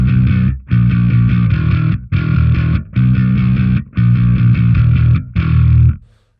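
Electric bass played through a distortion effect, a P-bass pickup in use, sounds in loud, gritty sustained phrases separated by short breaks, up close with no talking.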